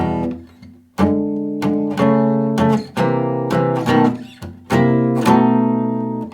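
An acoustic guitar plays a blues shuffle riff in E, starting on beat two, with rhythmic plucked chords and single notes ringing out close and bright, several strokes over a few seconds, unaccompanied.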